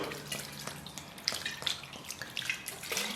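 Pork intestines are washed and squeezed by hand under running water, with quiet splashing, trickling and sloshing in uneven bursts close by.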